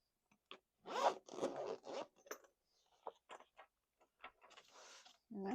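A zipper is pulled in several quick, close scratchy strokes as a thermal tattoo stencil printer's carrying case is opened, followed by soft rustling and handling.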